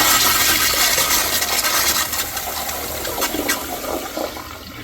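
A Kohler Kingston Waterguard wall-mounted toilet flushes with a loud, close rush of water that fills the whole stretch steadily, then thins slightly toward the end.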